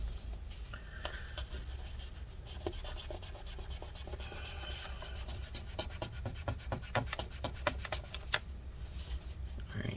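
Rubbing alcohol being wiped dry around the battery area of a 13-inch early 2015 MacBook Pro A1502 makes a quiet, close scrubbing rub. It speeds into quick repeated back-and-forth strokes and then slows again.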